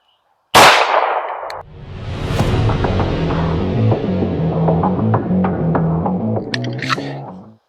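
Rapid pistol gunfire from a Glock 48 fed by a PSA Dagger magazine, a sharp loud first shot followed by a dense string of reports over a booming, reverberant background.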